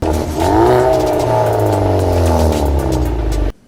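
A small 1.6-litre turbocharged hot hatch engine revs hard nearby, pitch rising then settling into a loud sustained drone before cutting off suddenly.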